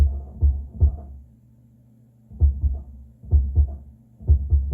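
Deep, boomy kick drum hits recorded with a Solomon subkick microphone come in short clusters with gaps between them, low and thumping, with no voices.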